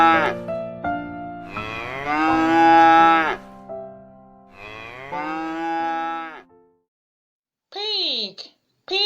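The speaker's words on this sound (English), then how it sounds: "C-O-W, cow." A cow moos loudly and close in two long, drawn-out lows separated by a brief gap, followed after a pause by short higher calls, with a voice briefly heard.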